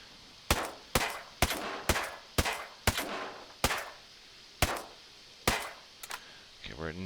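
Single shots from an AUG Scout rifle in Ghost Recon Breakpoint, about ten sharp reports spaced unevenly roughly half a second to a second apart, loud and close with a brief clatter at the end.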